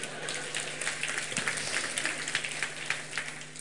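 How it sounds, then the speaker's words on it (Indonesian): An audience at a church gathering claps steadily, a soft, continuous patter of many hands with faint irregular peaks, heard alone without talk. "tepuk tangan dong"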